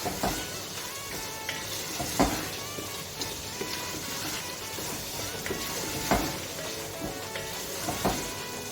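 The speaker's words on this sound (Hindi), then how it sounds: "मैं इसे भून रही हूँ" Chickpeas and rice roasting in a pan for chana pulao, a continuous close sizzle with occasional scraping stirs and clinks of the spoon against the pan.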